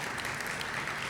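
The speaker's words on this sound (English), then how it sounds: "You can clap." Audience clapping at a community awards ceremony honoring sponsors, a steady dense wash of many hands applauding at moderate distance with no break, brief and continuous.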